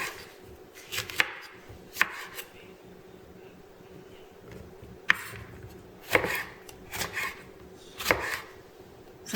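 A knife slices sweet mini peppers on a cutting board in a kitchen, close crisp chops arriving in irregular bursts with short pauses between, alone with no speech.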